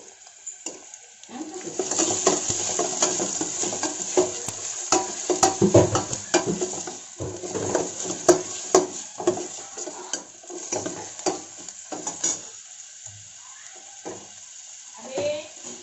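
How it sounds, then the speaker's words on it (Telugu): Onions sizzle and fry in a pan of ginger and garlic, with a spoon stirring and scraping against the pan in irregular bursts. The frying is near and steady, and the clattering strokes of the utensil sit on top of it. "ఇందులో ఉల్లిపాయలు వేసుకోవాలి"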